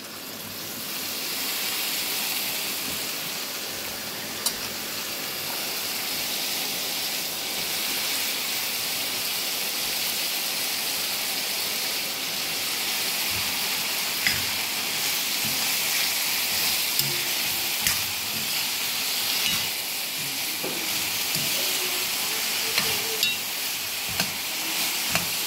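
Bitter gourd pieces drained from salt water sizzle steadily in hot oil tempering, a continuous close frying hiss with occasional stirring clinks and pops.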